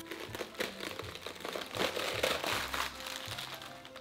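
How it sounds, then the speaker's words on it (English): A knife cutting a napa cabbage in half, close crunching and crinkling of crisp leaves as the blade pushes through, steady for a few seconds with no talking. "First, cut the napa cabbage in halves."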